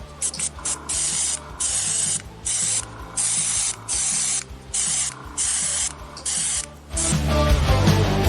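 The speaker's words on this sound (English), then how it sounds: "We're gonna get the matte varnish on, and he's good to go." Matte varnish from an aerosol can hisses onto a painted miniature in about a dozen short, evenly spaced bursts close by, followed by a muffled rustling clatter at the end, with no talking.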